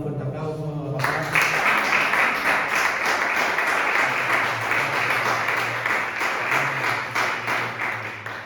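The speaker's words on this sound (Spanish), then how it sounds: "¿Podemos dar un fuerte aplauso a la palabra?" A church congregation breaks into loud, dense applause for the preached word, building suddenly and sustained at full strength, with a faint low hum underneath.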